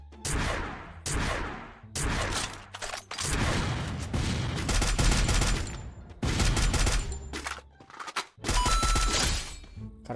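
Rapid bursts of gunfire from the mobile battle royale game Free Fire, loud close volleys of automatic shots repeating in clusters with brief gaps between them.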